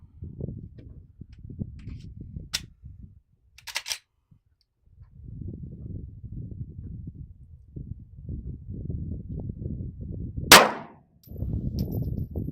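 One sharp, loud gunshot rings out at an outdoor shooting range near the end, preceded by a couple of metallic clicks from gun handling over steady background rumble.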